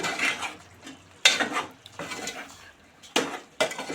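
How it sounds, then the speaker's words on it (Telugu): Chicken curry stirred in a pot with a spoon, short bursts of scraping and clinking against the metal separated by pauses, near and alone, with a lid set on. "ఇప్పుడు బాగా కలిపి మూత పెట్టి చికెన్ ఉడికించుకుందాం."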